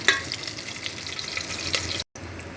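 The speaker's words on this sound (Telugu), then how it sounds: "కరివేపాకు వేసుకొని బాగా వేగిన తర్వాత ఇట్లా వేయించుకోవాలి" Curry leaves frying in oil for sambar, a steady moderate crackling sizzle throughout with a brief dropout near the end; no voices.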